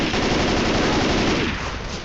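Sustained machine gun fire from the video game Left 4 Dead 2, a loud, dense stream of rapid shots rattling continuously for about two seconds with no talking.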